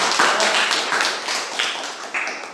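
Hands clapping in a classroom during a floor gymnastics physical education lesson, a dense patter of claps running steadily throughout, fairly close and loud with no talk over it.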